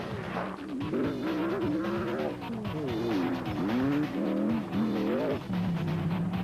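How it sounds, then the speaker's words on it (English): Off-road space frame race cars tearing past, engines revving up and down in repeated loud whining surges with tire noise, one car after another close by. "In the special vehicle category, or the cars referred to as space frame vehicles, the competition is also exacting and fast."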